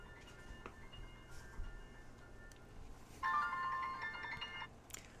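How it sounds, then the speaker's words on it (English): A phone ringtone plays a short electronic melody, fairly close, after some quieter background clatter; no one speaks. "I'm sorry you guys had to hear my phone going off"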